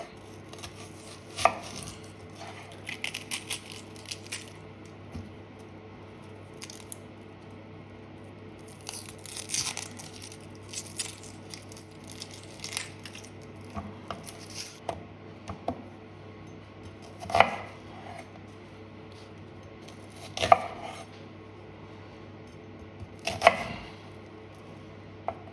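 A knife chopping onion on a board, with sparse, irregular crisp cuts coming in small clusters, fairly close but quiet against a faint steady hum.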